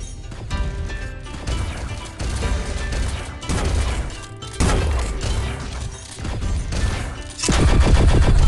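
In Thetan Arena, dense rapid gunfire runs in repeated bursts of crashing impacts and shots. It stays loud and continuous with short gaps and grows heavier toward the end, with no speech.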